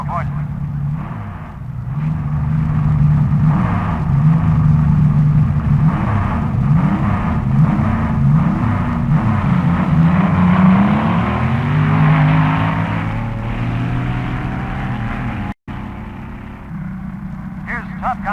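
A Moon Eyes dragster from California rumbles and revs at the 1961 NHRA US Nationals drag race, a loud sustained engine drone with a rising tone underneath an announcer's commentary.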